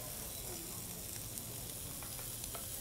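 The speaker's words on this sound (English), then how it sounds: "Just basically, yeah, just searing it." Shrimp sears in a pan at a market cooking demo, giving a steady frying sizzle with small pops and crackles and some stirring scrapes, fairly soft, with no talk.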